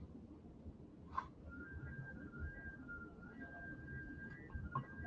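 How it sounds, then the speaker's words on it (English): A thin, high whistle holds a steady pitch over low rumbling background noise, faint and drawn out like wind whistling through a gap. "Sorry for the whistling. If you guys hear that, it is blowing like crazy"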